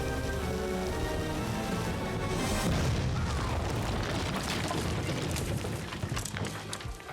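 A powder keg explodes to seal a tunnel exit in Kingdom Come Deliverance 2, a heavy booming blast followed by several seconds of dense crackling, rattling debris that trails off.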